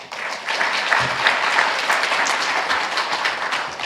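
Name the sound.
church congregation applause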